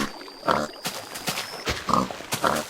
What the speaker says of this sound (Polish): odejdź, odejdź świnia